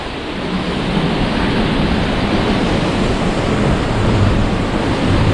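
A 100-metre waterfall roars right beside the camera, its spray and wind making a loud, dense, unbroken rush that holds steady throughout with no voices.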